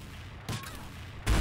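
Two sharp, close shots from a slow-firing sniper rifle in the online shooter XSHOT, one brief crack followed about three-quarters of a second later by a louder blast.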